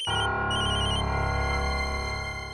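A telephone rings with a bright, repeating electronic trill, loud and close, with no voices.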